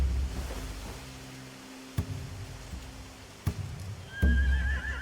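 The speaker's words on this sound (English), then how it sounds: "They have horses." In The Walking Dead: Final Season video game, a horse whinnies near the end over a low ambient hum, with a few sharp knocks and soft hoof-like thuds earlier.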